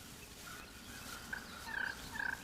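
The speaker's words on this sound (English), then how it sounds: "those purrs become a little bit louder and more aggressive" A wild turkey makes a series of louder, more aggressive purring notes as a warning, short rolling bursts rising toward the end over a steady outdoor hiss.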